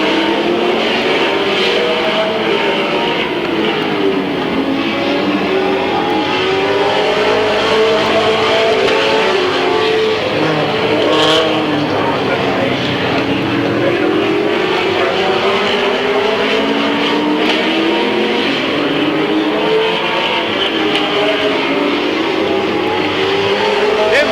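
Race cars at Midvale Speedway in 1995 roar down the backstretch in a continuous, loud, layered drone of engines whose pitches rise and fall as they pass, with an announcer talking over the noise.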